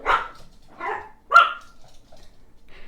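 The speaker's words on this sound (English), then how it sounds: "The dogs are excited about my neighbors." Dogs bark three times at a neighbor, with sharp, loud, nearby woofs about half a second apart, then fainter yips trail off.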